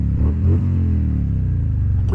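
A motorcycle engine hums steadily at low revs, with a couple of brief throttle swells near the start, close and fairly loud.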